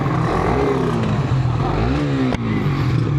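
Suzuki Raider underbone motorcycles with stock engines revving loudly up close at a drag race, the engine pitch rising and falling in sweeps with a brief clatter partway through.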